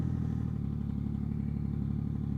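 A Yamaha MT-09 motorcycle fitted with a Two Brothers exhaust sits running with a steady, close engine drone and a low rumbling pulse, holding an even level with no rise in revs.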